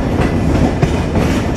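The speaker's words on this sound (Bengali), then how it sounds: "সীমান্ত এক্সপ্রেস প্রবেশ করলো তার আজকের যাত্রার যাত্রাপথের 10ম যাত্রাবিরতি স্টেশন ভেড়ামারাতে" Simanta Express intercity train pulling into Bheramara station at night, a loud, steady rumble with rhythmic clickety-clack of wheels over rail joints, close by.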